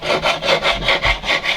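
A file or fret-shaving tool rubs back and forth across a high guitar fret, giving about eight rhythmic rasping strokes, close and fairly loud with no talk.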